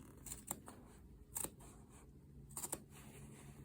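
Quiet snipping of scissors cutting fabric, a few short crisp cuts spaced apart with soft rustling between them.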